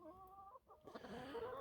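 Chickens, the red birds inside their nesting box, clucking and crowing in short tonal calls, close by, continuous and fairly loud with a brief pause partway through.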